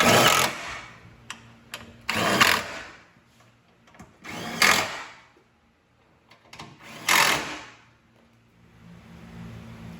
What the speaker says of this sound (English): we're going to tighten them down with a T27 Torx Bit Socket